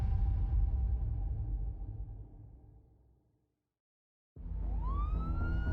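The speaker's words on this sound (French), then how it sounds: "Des sirènes retentissent dans tout Watertown." Police car sirens wailing across Watertown at night, a loud siren fading away to silence, then another rising sharply close by with a climbing wail.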